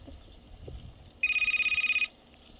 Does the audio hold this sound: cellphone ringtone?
yes